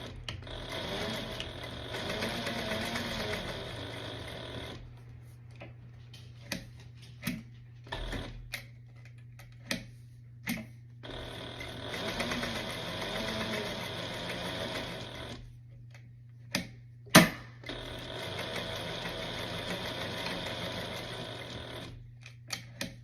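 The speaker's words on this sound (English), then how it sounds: "take both of those flaps over to the sewing machine to do that first" Sewing machine stitching denim jacket pocket flaps with a 3/8-inch seam: two long, steady runs of rapid mechanical chatter over a low motor hum, with clicks and pauses between them.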